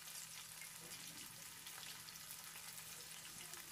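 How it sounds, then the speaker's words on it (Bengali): A second batch of cauliflower pakoras deep frying in hot oil gives a steady, dense sizzle and crackle that stays even throughout, with no talking. "আমি এবার সেকেন্ড ব্যাচটা ভেজে নিচ্ছি।"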